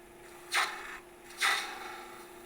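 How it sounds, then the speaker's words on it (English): Parting tool cutting into a resin Easter egg spinning on a lathe at about 1500 rpm: two short hissing cuts about a second apart over a faint, steady machine hum. "Do a little bit more with the parting tool."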